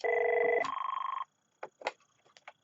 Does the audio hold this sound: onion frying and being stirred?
no